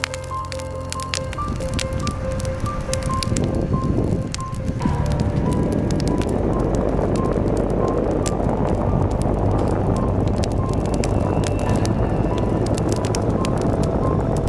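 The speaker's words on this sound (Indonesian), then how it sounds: "Kok tiba-tiba angin besar gini? Anginnya besar sekali, bisa-bisa api unggunnya mati." Sudden strong wind gusts near a campfire at night, a loud continuous roar and rush that builds after a few seconds and stays steady throughout.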